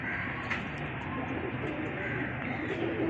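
A Kamagar pigeon with rare colouring coos softly and steadily against a low, noisy background, close but faint.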